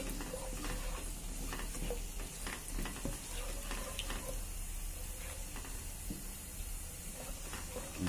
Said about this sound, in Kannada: ದ್ರಾಕ್ಷಿನ ಚೆನ್ನಾಗಿ ಫ್ರೈ ಮಾಡ್ಕೊಳ್ಳಿ